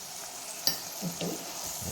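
Okra and tomato masala frying in a pan with spices and salt, a steady soft sizzle with a few light stirring clicks and scrapes, close and fairly quiet, no voices.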